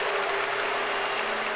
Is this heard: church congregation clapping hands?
yes